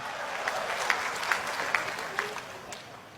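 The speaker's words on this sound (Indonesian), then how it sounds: "Tepuk tangan buat Indonesia." Audience applause comes faint and somewhat distant, a soft patter of clapping with a few sharper claps standing out at a roughly regular beat.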